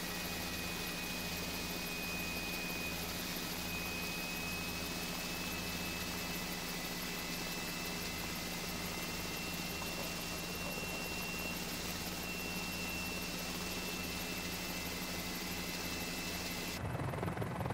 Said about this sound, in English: you should be able to see the helicopter lift off the ground